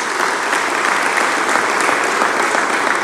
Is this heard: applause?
yes